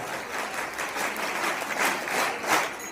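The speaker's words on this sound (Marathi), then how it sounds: "आपण जोरदार टाळ्या वाजवून स्वागत करूया" A crowd claps loudly and continuously to welcome teams, managers and judges at the inauguration of a district-level bhajan singing competition, with steady broadband applause swelling in bursts throughout and no talk.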